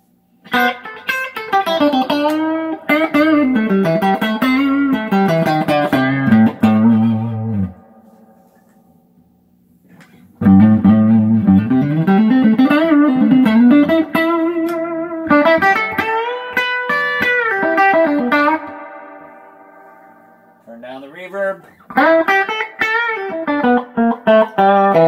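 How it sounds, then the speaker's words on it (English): Electric guitar phrases played through a Fender Supersonic 22 amp with its built-in spring tank reverb cranked up, giving a washy, splashy reverb tail, loud and close, with a pause before more playing. "Actually, it's pretty smooth for a Fender tank reverb."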